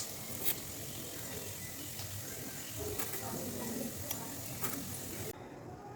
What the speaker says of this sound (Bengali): এখন আলু ভাজবো